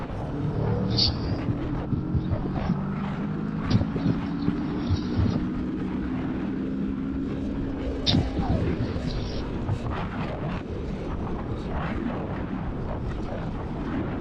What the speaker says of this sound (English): let's pick up some speed here. Let's go to 4th gear and get on it.